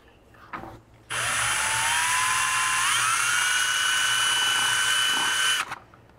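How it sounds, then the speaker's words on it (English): A power drill with a slightly larger bit whines steadily for several seconds as it enlarges a hole in a Lexus GX470 rear bumper mount, its pitch dipping slightly mid-run before stopping abruptly. "using a little bit larger drill bit, we'll open up that hole"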